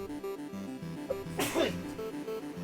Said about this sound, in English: had to sneeze very violently all of a sudden